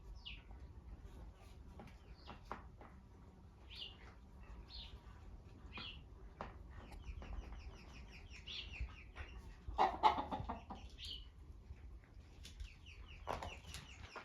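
Soft clucking of hens around a chicken coop, with short calls scattered throughout and a few sharper squawks near the end.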